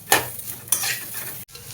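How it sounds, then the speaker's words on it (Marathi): Chopped onion roasting in a pan with a little oil for Kolhapuri misal masala, stirred with a utensil: two sharp scrapes and clinks over a soft, steady sizzle, close by. "कांदा भाजून घेते."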